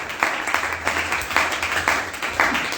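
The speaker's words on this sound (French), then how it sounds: "Donnons gloire en acclamant une fois de plus pour glorifier Jésus" A church congregation applauds together in praise of Jesus, a dense wash of clapping that surges in rhythmic waves, with rhythmic accented claps recurring about every half second throughout.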